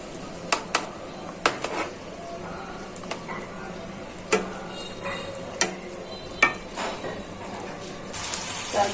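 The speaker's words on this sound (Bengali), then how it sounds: "এখন মাছগুলো দিয়ে দিই সুন্দর করে।" Golsha or tengra fish dropped into a hot pan and stirred as it cooks, with scattered clacks of a spatula scraping the pan over a steady low sizzle, the strokes irregular and close.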